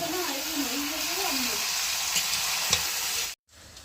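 Spices for desi (country) chicken kosha sizzle and are stirred in a hot pan. A steady, loud frying hiss runs throughout, with a faint voice early on, and the sound cuts out abruptly near the end.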